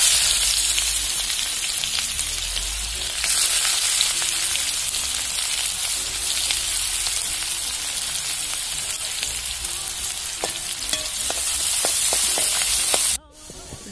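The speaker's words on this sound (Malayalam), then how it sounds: "ഉള്ളി ചോക്കന വറക്കാം." Onions frying in hot oil with mustard seeds in a pan for a Kerala-style pulinkari, a loud, continuous close sizzle with scattered crackles and pops, briefly dipping near the end.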